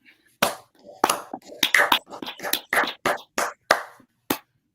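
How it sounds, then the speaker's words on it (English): An outdoor crowd at a street gathering in Washington DC claps in a ragged burst of sharp, separate hand claps lasting a few seconds, with faint murmuring between them. "Let's clap it up."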